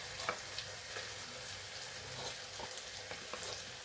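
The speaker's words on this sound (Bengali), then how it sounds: "এখন হচ্ছে এই যে শুটকি আর বেগুনটা একসাথে দিয়ে দিব" Dried fish and eggplant cooking in hot, well-fried masala, producing a faint, steady sizzle with small crackles and no talk.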